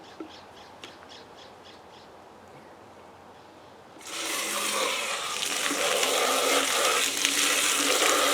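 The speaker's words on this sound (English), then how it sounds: "Now, empty the sprayer out. Dump the soap out. Rinse this out." A sprayer being rinsed out, with a few faint squeaks and quiet handling noise at first, then water suddenly rushes in and keeps up a loud, steady spray and splashing close by to the end.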